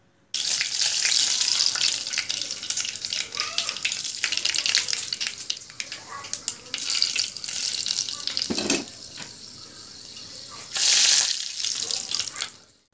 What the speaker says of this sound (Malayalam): കറിവേപ്പിലയൊക്കെ നല്ലപോലെ ഫ്രൈ ആയിട്ടുണ്ട്.